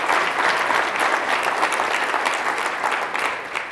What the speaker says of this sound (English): Your applause is so appreciated,